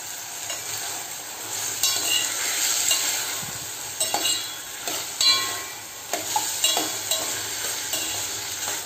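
Vegetables with green chillies frying and being stirred in a pan, a steady close sizzle broken by repeated scraping stirs, with no talking.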